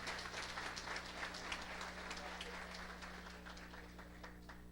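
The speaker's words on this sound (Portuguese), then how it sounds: "Aplausos para os diplomados de Ermo." An audience applauds graduates at a formal diploma ceremony for elected officials, with a steady stretch of many hands clapping over a constant low electrical hum in a hall.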